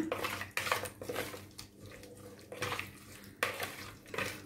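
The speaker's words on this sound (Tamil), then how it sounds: "இதில் வந்து நம்ம அரைச்சி வச்சுருக்கிற மசாலா வந்து இதில் போட்டுக்கலாம். இதை நல்லா மிக்ஸ் பண்ணி விடுங்க." Ground masala is mixed into mackerel curry in a dish, giving repeated clinks and wet scraping strokes in uneven bursts, close and moderately loud with no speech.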